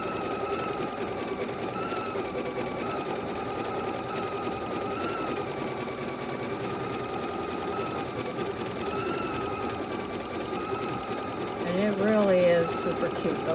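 A sewing machine quilts orange peel blocks with a steady, fast, continuous hum and needle chatter, close and even throughout, with a brief higher whine near the end.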